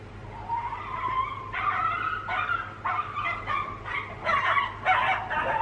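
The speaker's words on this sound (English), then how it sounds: "That's a yippy dog." Small yippy dog barking outdoors in a rapid series of short, high yaps that come in uneven bursts, moderately close and without talk.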